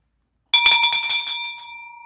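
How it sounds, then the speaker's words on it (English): A single bell is struck once in celebration, ringing out with a bright metallic clang that decays slowly into a sustained fading tone, alone after a brief silence. "Let's ring that bell."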